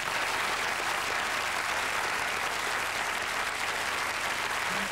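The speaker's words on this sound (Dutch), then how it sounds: "En wat er nog meer is, Bart, je krijgt een geweldig applaus van ons publiek." Studio audience applause on a 1989 Flemish television show, a steady, even wash of many hands clapping with no pauses, moderately loud and heard alone.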